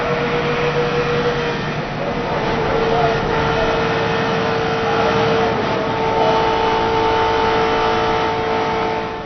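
Onboard engine of a NASCAR stock car racing at Talladega in 2005, a loud, steady high-revving drone with shifting tonal harmonics throughout, mixed with broadband roar and no clear break.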